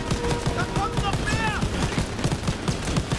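Rapid bursts of Call of Duty WW2 gunfire crackle continuously with sharp repeated shots, a synthetic, game-like quality, and a voice murmurs faintly underneath.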